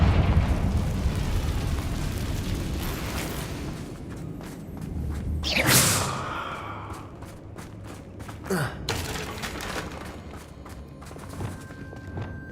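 Confringo fire blast spell cast in Hogwarts Legacy, a loud whooshing burst around the middle amid game ambience, followed by a smaller impact and scattered clicks.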